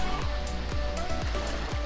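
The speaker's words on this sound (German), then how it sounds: "Ist aber ein kleiner Wasserfall." A small waterfall on Koh Chang rushes steadily in a continuous broadband wash of falling water. A low engine-like hum pulses beneath it, and no one speaks.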